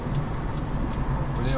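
A car's engine drones steadily inside the cabin during a driving lesson on a Khabarovsk route, a constant low rumble with faint ticking, and an instructor can be heard speaking over it.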